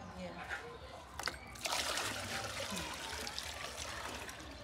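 Well water trickles and splashes steadily as it is poured, with a brief louder splash partway through, while people talk nearby, in Gambia.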